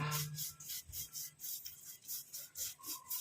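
A spoon scrapes and stirs ingredients frying in an iron kadai, a quiet, rhythmic rasping of roughly a dozen regular strokes, close and alone with no talk.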